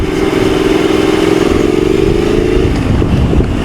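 Triumph Thruxton R motorcycle engine running steadily, a loud, close idle hum with a faint rising whine that drops away near the end, over constant rumble.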